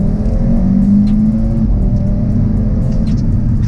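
An Audi RS3 engine pulls hard under full throttle in second gear from 4,000 RPM, a loud sustained drone climbing steadily in pitch with a gritty exhaust rasp throughout.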